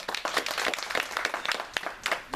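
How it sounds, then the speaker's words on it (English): An audience at a Brooklyn Tea Party meeting for a New York City mayoral candidate breaks into applause, with brisk, scattered clapping from a modest crowd, fairly close and steady for a couple of seconds. "You can applaud for Kathy, because she's the one that talked me into it"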